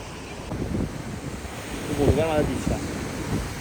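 Ocean waves roll in against a rocky Konkan shore with a steady wash of surf and heavy wind rumble across the microphone. A voice is heard briefly in the middle.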